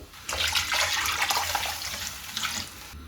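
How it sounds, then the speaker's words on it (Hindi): Water pours in a steady, splashing rush into a pot of fried fish as the base for fish pulao. The pour runs close and continuous for nearly three seconds, then stops abruptly. "मछली को भी 3 से 4 मिनट दरमियानी आंच पर भूनने के बाद इसमें चावलों के हिसाब से पानी डाल देंगे"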